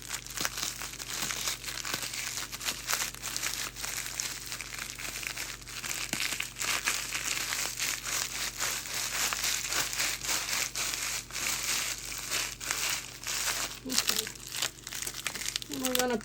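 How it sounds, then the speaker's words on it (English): A roll of golden round Ritz-style store-brand crackers being crushed up in a kitchen, a continuous crinkling and crunching of wrapper and crumbs, steady and moderately close, with a voice talking at the very end. "we're going to crush up a roll of crackers. The Ritz type, the golden round crackers"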